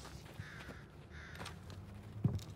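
In the video game Call of Duty: Vanguard, a crow caws faintly a few times over quiet ambient game sound.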